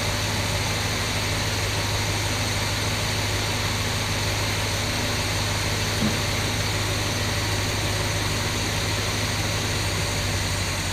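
A 1966 Ford Galaxie 500 engine idling cold, its choke nearly open, producing a steady, even drone with a low hum and broadband hiss that holds constant throughout, with no talk.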